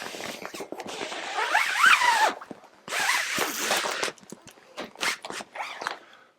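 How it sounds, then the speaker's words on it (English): Zippers on the windows of a QuadraTop Adventure Top fastback soft top for a Jeep are zipped, several sharp ratcheting zip runs separated by brief pauses, close and loud. "we can go ahead and attach our zippers and zip them down about halfway"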